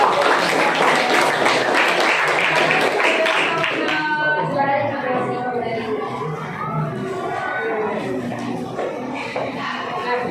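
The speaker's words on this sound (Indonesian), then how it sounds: "sekali lagi beri tepuk tangan untuk kelompok" Classroom applause for a student group after a batik presentation, dense clapping from many children that thins out midway, with voices and chatter mixing in.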